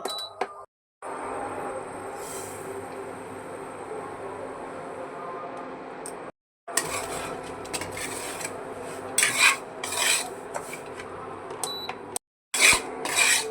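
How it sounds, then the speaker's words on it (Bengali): Semolina is dry-roasted over low heat while a spoon rasps and scrapes steadily across the pan in long, continuous rubbing strokes, broken by brief silent gaps and occasional metallic clinks. "সুজিটাকে আমরা হালকা আঁচে ভেজে নেব।"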